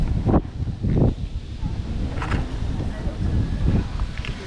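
Wind buffets the microphone during a bike ride, with rough low rumbling gusts pulsing in waves and voices talking over it.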